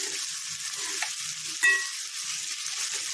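Onion frying over a high gas flame in a pan for a lentil and potato amti, a steady soft sizzle with a brief scrape of stirring partway through, close and fairly quiet.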